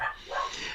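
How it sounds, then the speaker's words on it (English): Dog barking in the background of a spoken show, a short whiny yip or whimper-like bark, moderately loud and brief. "You can hear my dog in the background."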